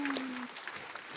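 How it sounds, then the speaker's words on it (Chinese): Studio audience applause on a Chinese variety talk show, fairly faint and steady clapping from a crowd, with a brief musical tone at the start. "掌声再次送给他，谢谢。"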